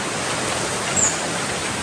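A river stream rushes steadily along a hiking trail near a waterfall area, a broad, even wash of flowing water close by with no voices.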